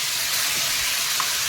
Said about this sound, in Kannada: ಇದು 1 ನಿಮಿಷದವರೆಗೆ ಈಗ ಚೆನ್ನಾಗಿ ಫ್ರೈ ಆಗಬೇಕು.